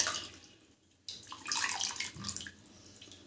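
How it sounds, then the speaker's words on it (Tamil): Tamarind extract poured into a pot of fish curry, a short liquid splash and trickle that starts abruptly and runs for about two seconds, close and moderately loud with no talking. "புளிக்கரைசலை சேர்த்துக்கலாம்"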